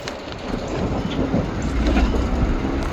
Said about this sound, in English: I hear that thunder coming,